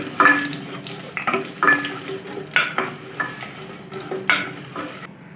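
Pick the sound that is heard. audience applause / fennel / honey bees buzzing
fennel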